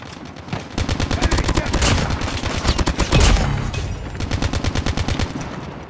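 Rapid automatic gunfire in the mobile shooter Call of Duty Mobile, a loud steady rattling stream of shots with a brief pause midway, partly under a player's speech.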